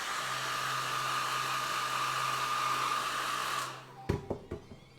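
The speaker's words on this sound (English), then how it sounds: "Let's speed this up, get a hair dryer going." A hair dryer blows steadily, loud and near, while being used to speed the drying of paint on a miniature figure, then switches off, leaving a few soft clunks and quiet room tone.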